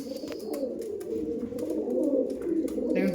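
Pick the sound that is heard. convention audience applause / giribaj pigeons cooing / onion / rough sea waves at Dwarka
giribaj pigeons cooing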